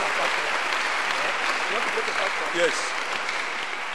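A church congregation claps in praise to God, a dense steady wash of applause lasting throughout, with a voice speaking faintly beneath it near the end.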